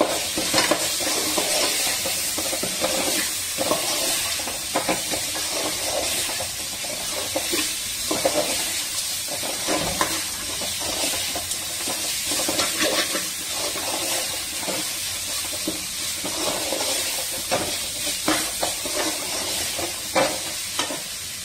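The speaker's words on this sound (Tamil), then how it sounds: "நல்லா கொதிக்குது பாருங்க" Rava kichadi bubbles and sizzles steadily in a pan, a constant hissing simmer with small pops throughout and no talking.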